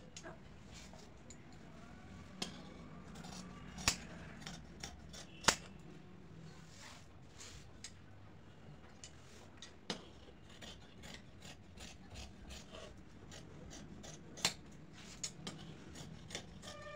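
Scissors cut cloth for the back part of a garment, giving quiet rasping snips with occasional sharper clicks of the blades, close and faint, without talk.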